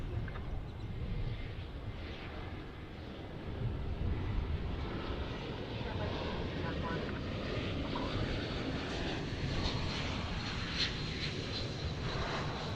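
Spirit airliner arriving at DFW airport, heard as a steady, distant jet engine roar that swells slightly and holds under faint background noise, with no clear talk.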